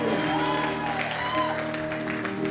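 A church congregation applauds in a dense, continuous wash of clapping mixed with raised voices and shouting, loud and close throughout.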